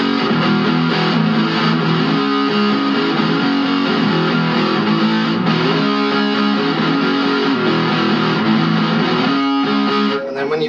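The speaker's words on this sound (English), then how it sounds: "And then again the chorus is just exactly the same but with distortion." Distorted electric guitar plays the loud, sustained chorus of a song, dense and continuous throughout with no voice over it.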